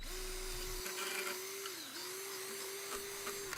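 A power drill widening bolt holes whines at a steady pitch, dipping briefly midway as it bites, against a noisy background.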